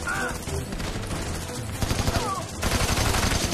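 Mounted machine gun fire in the video game Army of Two: The Devil's Cartel, a dense, continuous rattle of rapid shots mixed with other gunfire, growing louder and harsher in the final second.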